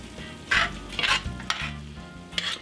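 Stuffed bell pepper filling seasoned with salt and pepper is stirred in a hot pan, a spoon scraping and clattering in several bursts over a continuous sizzle, close by with no talking.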